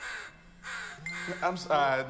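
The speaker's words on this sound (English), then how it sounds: "Is there a bird in this room?" A crow's harsh cawing sounds indoors in a room, several rough calls in quick succession with uneven gaps between them.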